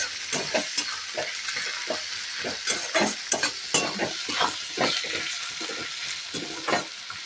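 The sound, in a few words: onion and tomato being stirred and fried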